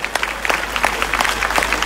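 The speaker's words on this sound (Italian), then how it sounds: "Fate un applauso ai nostri donne, ai nostri uomini in divisa delle forze dell'ordine" Crowd at an outdoor political rally in Latina applauding police officers, dense sustained clapping from many hands throughout, fairly loud and close with no talk over it.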